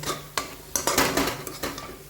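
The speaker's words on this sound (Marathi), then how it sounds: "आता हे जरा फिरवते" Spring onion vegetable being stirred with a spoon in a kadhai, giving a run of scraping, clinking utensil strokes against the pan, close and fairly quiet, with no talking.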